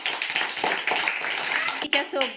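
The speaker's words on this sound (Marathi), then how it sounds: "दीपाली जिंकलेली आहे, तिच्यासाठी टाळ्या वाजवा" A group claps in quick, dense applause close by for the winner of a pen-and-bottle game, with a voice speaking over it near the end.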